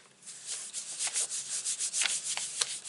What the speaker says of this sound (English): And just rubbing to get that impression on my card.